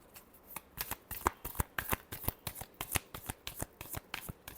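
Tarot reading cards being shuffled close up, a rapid run of sharp papery riffles and slaps in an uneven rhythm, fairly quiet, with no speech.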